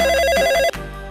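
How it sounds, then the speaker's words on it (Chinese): A telephone rings with a steady electronic ringtone at close range, loud and sustained before cutting off abruptly, leaving a low hum in a children's cartoon. "妈妈，找你的电话。"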